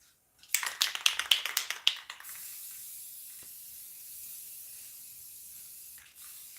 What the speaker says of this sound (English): I can see areas that I missed with the spray paint.